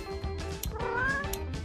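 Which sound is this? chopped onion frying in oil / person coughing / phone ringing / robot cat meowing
robot cat meowing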